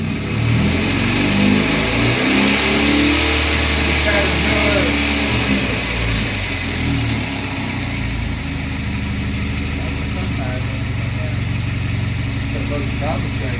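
A 4-cylinder turbo Camaro engine, freshly timed and started, revs up to about 1,500 rpm then settles into a steady, loud, close-up run with deep harmonic drone, voices of people talking around it.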